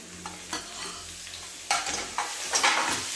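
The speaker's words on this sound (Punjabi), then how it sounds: "ਤੇ ਹੁਣ ਆਪਾਂ ਪਾਵਾਂਗੇ ਟਮਾਟਰ" Tomatoes go into a hot pan for homemade desi-style pasta, sizzling and frying as a spoon stirs them in several scraping bursts, close and moderately loud.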